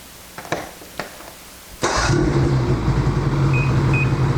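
A snowmobile engine starts after a few clicks, catching abruptly and settling into a steady, loud idle close by, with faint beeps near the end.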